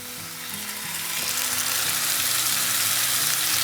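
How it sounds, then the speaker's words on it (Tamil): Goat brain tipped into a pan of frying onions sizzles loudly and steadily, the crackle swelling slightly and staying close and continuous with no voices. "இப்போது நம்ம பிரெயினை வந்து உள்ளே கொண்டு வந்துடலாம்"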